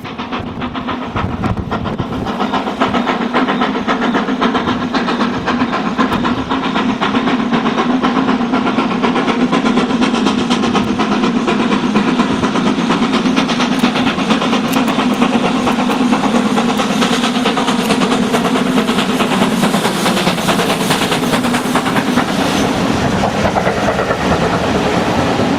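Steam locomotive 6024 hauling a Taunton to Stratford excursion at Hatton, a steady loud rumbling roar with rhythmic exhaust and rail noise sustained throughout, close and unbroken.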